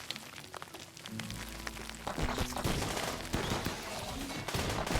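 Combat shotguns fire repeatedly in a RimWorld battle against insect hives, a dense clatter of overlapping sharp shots that grows busier after the first second or two, with steady game ambience underneath.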